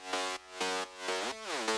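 A progressive house synth bass in FL Studio, heard dry without its flanger, plays four sustained notes in a steady rhythm, the last one bending in pitch, with no voice over it.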